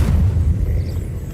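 A fiery Incendio spell blast from the game Hogwarts Legacy, a loud low booming burst that rumbles steadily for over a second with no talking.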